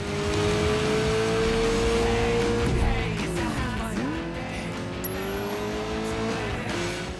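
A powerful, super-fast DLC car in the Sleeping Dogs video game drives hard, its engine holding a steady loud drone that dips and climbs again with shifting revs, tires faintly squealing underneath.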